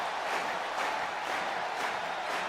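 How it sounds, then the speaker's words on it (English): Steady broadband crowd noise fills a wrestling arena in WWE 2K26 as Joe Hendry appears, a continuous wash of clapping and murmur with no entrance music, even in level throughout. "Everybody's clapping in the crowd, but we don't have the music."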